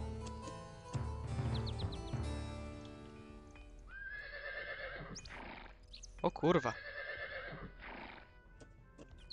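Several horses neigh and whinny in the Cossacks 3 strategy game, with clip-clopping hooves, game music and effects; loud, overlapping calls cluster in the middle and later part while someone talks.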